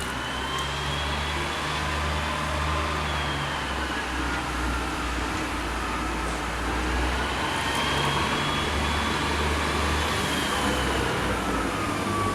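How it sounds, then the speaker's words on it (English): Diesel engine of a Pacer bus starting up, rumbling low and steady, with a faint whining tone drifting above it, continuous throughout with no voices. "that's the sound of a pacer bus starting up"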